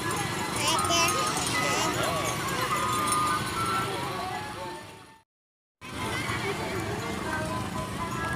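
A horse pulling a delman cart clip-clops steadily for several seconds, with rolling wheel and street noise around it. People talk throughout, and the sound cuts out briefly near the end.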